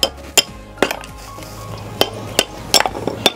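Leftover aluminium is knocked off a freshly poured casting of a Kar98 rifle, each break a sharp metallic clink, about eight irregular strikes close by with no talk.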